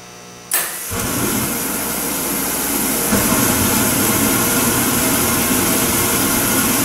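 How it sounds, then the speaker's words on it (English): A homemade waste-oil air heater's burner ignites with a sudden whoosh, then settles into a steady, loud roaring rumble close by that builds slightly and keeps running without any talk. "you should be able to hear the burner light off"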